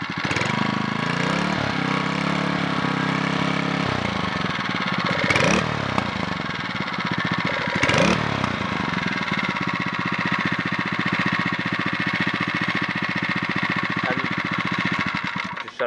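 Predator 79cc single-cylinder small gasoline engine running at idle, a steady close mechanical putter with a brief revving swell partway through, no talking.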